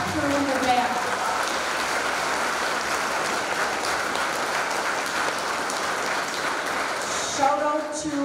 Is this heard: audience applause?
yes